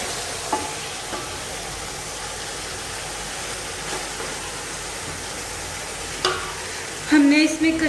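Kachnar buds and beef sizzling steadily in a hot pan while a spoon stirs, with soft scraping clatter near the end.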